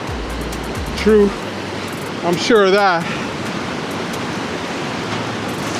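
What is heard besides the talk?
ocean waves on a beach in Guatemala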